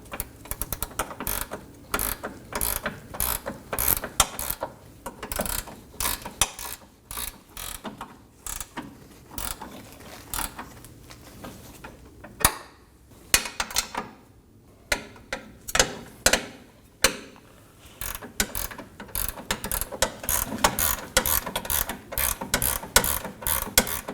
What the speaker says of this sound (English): Now I'm going to snug down my 2 15mm nuts.